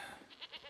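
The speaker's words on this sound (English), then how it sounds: "Here, goat." A goat in The Witcher video game gives a short, faint bleat with a couple of quick wavering pulses, heard alone.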